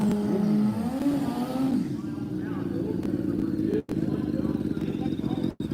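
A motorcycle at a BikeFest drag-racing shakedown pulls away after a wheelie, its engine note rising then settling into a steady loud drone with crowd and commentary noise around it.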